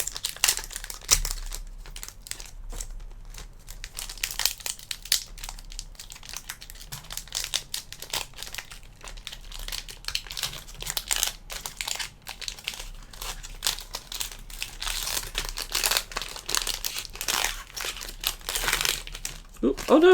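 A Yu-Gi-Oh Age of Overlord booster pack is torn open, with close, continuous crinkling and ripping foil, and occasional voice alongside.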